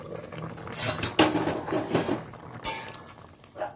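A lid comes off a pot of chicken curry with potatoes, giving loud metallic clanks and clinks of cookware, several close knocks and a softer bump near the end, with no talking.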